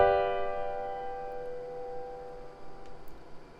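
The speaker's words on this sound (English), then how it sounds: "From our 5th note, we can build what's called a dominant 7 chord," A dominant seventh chord is struck once and left to ring out alone, its tone fading slowly over a few seconds.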